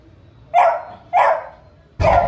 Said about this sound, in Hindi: अंदर वाला भौंक रहा है